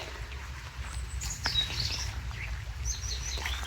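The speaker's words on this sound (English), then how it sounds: "Can you hear the birds?" Birds call and chirp outdoors on a wet, rainy day, several short high tweets scattered over a low rumbling background, fairly faint and without talking.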